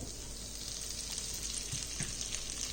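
Butter melting in a heated wok over a low flame, a steady soft sizzle with faint crackles throughout, close and quiet, no talking.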